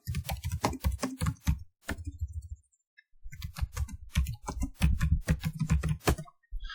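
Rapid typing on a computer keyboard while entering a ticket violation search, bursts of close, crisp key clicks with a brief pause in the middle before typing resumes at a steady, dense rhythm.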